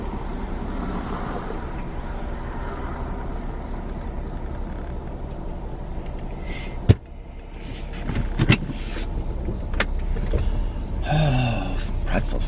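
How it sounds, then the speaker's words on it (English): Cars roll past a gas station late at night, a continuous low traffic rumble with passing swells, a sharp thump partway through and rising whooshes of nearer vehicles toward the end. "I was just like listening to the cars going by."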